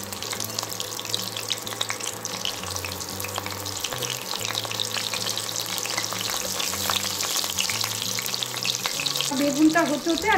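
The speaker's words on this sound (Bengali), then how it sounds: "এদিকে আমি বেগুনগুলো ভাজতে থাকবো" Eggplant pieces frying in a pan give a steady, close sizzle with occasional stirring scrapes, building slightly louder toward the end, with no voices.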